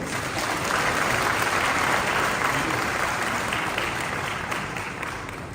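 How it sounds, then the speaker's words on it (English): A crowd at a Ghanaian ceremony marking 150 years since the Sagrenti War, with a book launch chaired by the Asantehene, gives a long, sustained round of applause, full and near, slowly easing toward the end. "Please, a round of applause."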